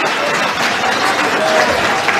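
Audience applause fills a room for a live stage presentation, a steady dense wash of clapping held at even loudness throughout without any break or voices on top.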